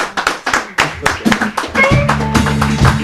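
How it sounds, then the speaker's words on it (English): Audience applause at a literary cafe talk show, a burst of close, sharp hand claps building into a denser round, with voices and a tonal sound underneath in the second half. "won't you please a round of applause for Gary from Miracles."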